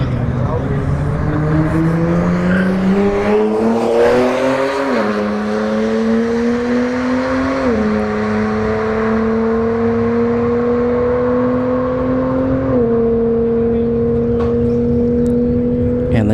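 A BMW and a Genesis G70 accelerating down a drag strip, a loud sustained engine drone rising in pitch with distinct drops at each gear change, heard from a fixed spot near the track.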